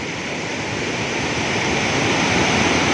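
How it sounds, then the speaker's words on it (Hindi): Sandhoa waterfall in the Samahni valley, Azad Jammu and Kashmir, roars at its main mouth as a loud, steady broadband rush of falling water, unbroken and with no voices. "ये है जी वाटरफॉल का मेन दहाना, संदोवा वाटरफॉल।"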